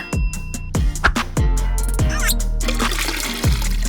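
Cartoon water pouring from a fountain tap, a splashing, gurgling stream broken by several sharp impact sounds and tonal effects, fairly close and steady throughout.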